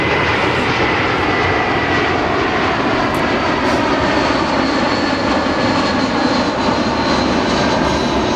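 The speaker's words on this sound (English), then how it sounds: "Just wait for the plane." A loud airplane passes overhead outdoors, its engine roar a dense, continuous drone filling the scene with no speech over it.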